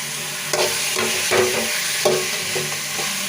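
Chicken is sautéed with fried masala paste for pepper chicken, a loud close sizzle broken by several scraping stirs of a spoon through the pan, spaced about half a second apart.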